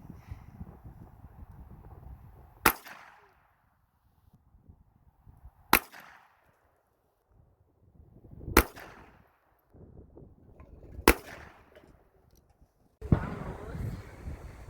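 .22 rounds, Winchester and Federal 36 grain hollow points, fired into a ballistic gel block outdoors: four sharp, evenly spaced gunshots with quiet gaps and wind noise between them, with a fifth louder crack at the end.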